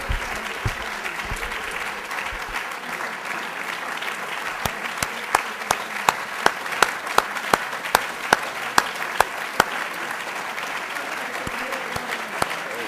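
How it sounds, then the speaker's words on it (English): Sustained audience applause closing a Harvard talk on Europe's foreign policy, a continuous crowd clap with a run of crisp, evenly spaced single claps standing out near the microphone midway through, heard without talk. "clap again and then we'll be done."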